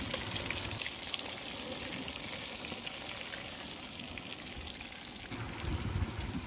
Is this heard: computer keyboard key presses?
no